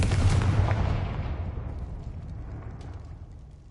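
A Confringo fire spell explodes in a Hogwarts video game, one loud booming blast with a deep rumble that decays over a few seconds into a fading roar.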